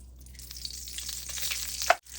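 Whole coriander, dried chillies, pepper, curry leaves and garlic frying in a little oil in a pan, a steady soft crackle and sizzle throughout with a brief louder pop near the end.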